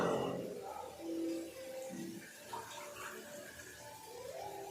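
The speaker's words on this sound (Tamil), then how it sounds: "எனக்கு ரசத்துக்கு கொஞ்சம் தண்ணி நான் இன்னும் கொஞ்சம் ஆட் பண்ணிக்கிறேன்." Water pours into rasam in a home kitchen, a soft splashing trickle that swells and fades in short bursts, fairly quiet, with a voice talking over it.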